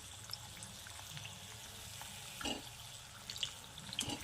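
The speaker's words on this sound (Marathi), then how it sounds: "याला छान असा लालसर होईपर्यंतच आपल्याला तळू द्यायचा आहे" Wheat jaggery papdi fries in oil with a quiet, continuous sizzle and faint bubbling, plus a few small clicks and splashes near the end.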